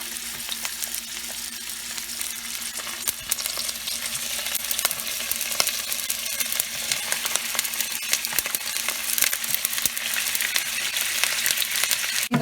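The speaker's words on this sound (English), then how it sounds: "So after adding the mutton pieces, what I'm going to do is I'm going to nicely roast them." Mutton pieces roast in refined oil in a pan, giving a continuous bright sizzle and crackle with small pops and occasional stirring scrapes, steady and close throughout.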